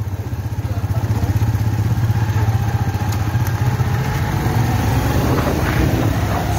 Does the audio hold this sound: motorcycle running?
yes